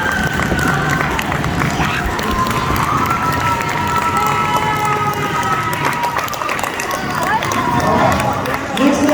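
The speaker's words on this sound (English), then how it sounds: "So give yourselves a round of applause." Students at a school's last-day gathering clap and cheer loudly as a crowd, with shouts and whoops rising over continuous applause and voices mixed throughout.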